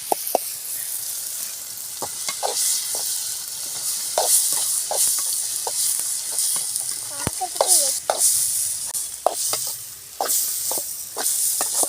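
Ingredients sautéing in a pan give off a loud, continuous sizzle and hiss, broken by frequent scraping and clinking stirs of a spoon against the metal, close by with no voices.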